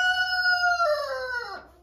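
A rooster in a backyard chicken coop lets out a single loud, close crow, a bright harmonic call that rises, holds and then falls away at the end.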